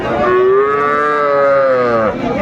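A Sahiwal cow moos once at a weekly village cattle market, a long loud close bellow that swells and fades over about two seconds.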